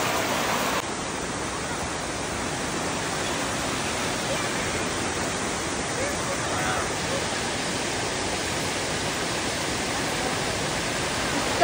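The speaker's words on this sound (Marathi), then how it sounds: "इतका सुंदर आमच्या एकदम घराला लागून असा एक धबधबा आहे छोटासा" A small waterfall beside a house in the Konkan rainy season roars as a dense, steady wash of rushing water, loud and unbroken throughout.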